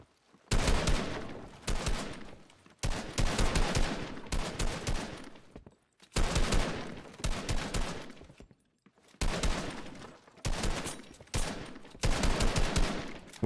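Video game gunfire in repeated loud bursts of rapid automatic shots, each volley lasting a couple of seconds and separated by brief silent gaps, close and dominant.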